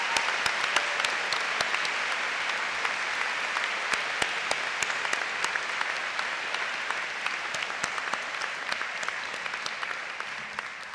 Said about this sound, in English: ask the heroes of the class of 2023 and their families to join me in a round of applause for this